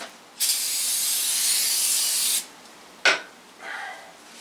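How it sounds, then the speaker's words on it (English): Brake cleaner sprays onto the new clutch pressure plate and flywheel of a 2006 Hummer H3 3.5 five-cylinder, one long steady hiss of about two seconds, then a short sharp burst and a brief softer spray, close and loud with no talking. "Let's go get some brake cleaner so we can degrease these surfaces."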